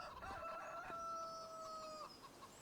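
Chickens in a farming video game let out a faint, drawn-out call with a couple of clucks, heard alone against a quiet background.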